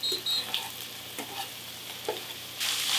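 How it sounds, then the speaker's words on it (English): Chopped onions and browning ground beef sizzle in a hot pan, a steady frying hiss broken by several short scraping stirs, close and moderately loud, with no speech. "All right, ground beef's browning up nicely. To that, we're gonna add our chopped onions."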